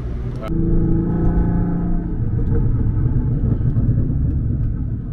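A supercharged Audi S4 with performance mods, lowered on KW coilovers, pulls away from a stop, its engine rumble building loud and close with a brief whine at the start.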